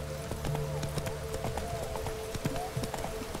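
Roach, the horse in The Witcher 3, clip-clops along with a steady rhythm of hooves over a low game soundtrack drone.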